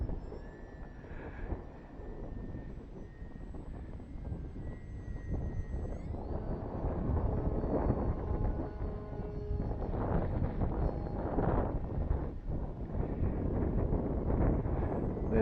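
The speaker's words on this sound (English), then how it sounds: "A little bit too windy for it." Wind buffets a microphone outdoors in windy conditions at a model glider flying field, a steady low roar with gusty swells throughout, a faint engine-like whine and tones drifting above it.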